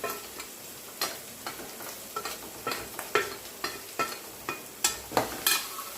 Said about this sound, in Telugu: ఇప్పుడు జీలకర్ర మెంతుల పొడి, కారం, ఉప్పు, ధనియాల పొడి వేసుకొని కలుపుకోవాలి.